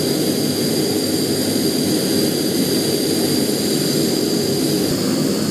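A tiny camping stove burner roars steadily and loudly while boiling water, a continuous close jet-like rush that holds constant throughout with no talk over it.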